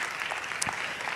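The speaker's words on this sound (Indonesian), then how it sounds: "kita kasih tepuk tangan dulu bagi Tuhan" Congregation in a church service clapping, a brief, diffuse wash of applause that sounds somewhat distant and soft.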